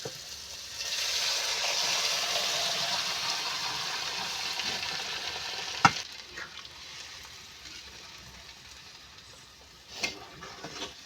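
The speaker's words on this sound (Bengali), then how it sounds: "সিদ্ধ করে ছোলার আলু রেখেছিলাম ছোলা আলু এবার আমি ঢেলে দেবো" Boiled chickpeas and potatoes tipped into sizzling masala in a pan, a loud steady frying hiss that gradually softens as the mixture is stirred, with two sharp utensil knocks against the pan.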